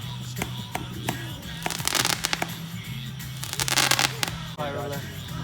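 A July 4th backyard fireworks display in Fort Myers, Florida pops and crackles in rapid bursts of sharp reports and dense crackling, with voices murmuring nearby.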